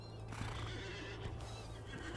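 Horses in a video game whinny and neigh several times over a steady electronic hum, with faint clip-clop of hooves in between, fairly quiet and with no talking.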